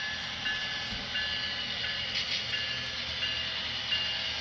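An HO scale Santa Fe model railroad train runs on a busy layout, giving a steady, close mechanical hum and whirr with faint clicks, continuous and without talk.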